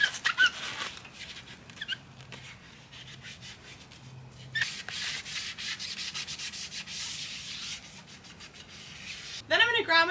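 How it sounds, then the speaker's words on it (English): Soft sponge rubbing soapy water over a dirty bike frame in repeated scrubbing strokes, a close, swishy friction sound that comes in bursts, with a brief squeaky sound near the end. "now using my soft sponge, I'm going to get in the parts that are a little extra dirty"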